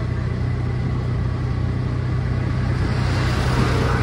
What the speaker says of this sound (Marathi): एका हाताने गाडी चालू आहे.